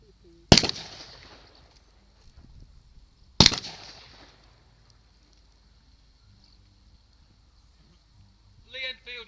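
Two sharp, loud rifle shots from a .303 sniper rifle at a Commando demonstration, each cracking out with a decaying echo several seconds apart, quiet between and a brief voice at the end.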